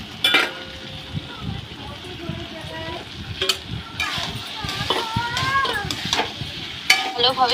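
Potatoes being stirred and fried in a wok, a steady sizzle under scraping stir strokes, with light background voices and clatter.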